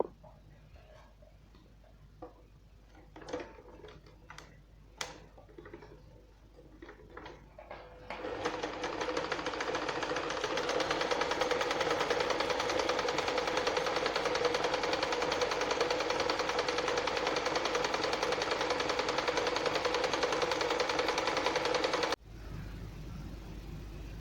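A Janome 1122 EX sewing machine, previously prone to skipped stitches, runs a zigzag stitch with a loud, steady whirring rattle for about fourteen seconds. Faint clicks and handling taps come before it, and a quieter hum follows.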